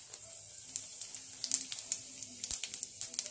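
Whole cumin seeds, a bay leaf and a dried red chilli fry in hot oil, making a faint, steady sizzle with scattered small crackles and pops, close by and heard on their own.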